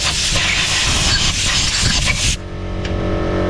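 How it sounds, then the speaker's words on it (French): A compressed-air blower blasts through a Dyson V10 Absolute stick vacuum cleaner during a repair, a loud close hiss that runs steadily for a couple of seconds before cutting off to a faint background hum. "On va passer un petit coup de soufflette dans l'aspirateur."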